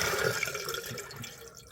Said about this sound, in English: it's flowing up over the overflow